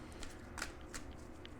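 Tarot cards being shuffled by hand, giving a few soft papery riffles and slides at close range with faint background hiss, no talking.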